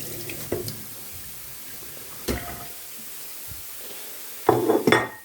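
Tap water splashes as a tomato is rinsed at a kitchen sink during burger prep, in short bursts with a brief splash early on and a louder gush near the end.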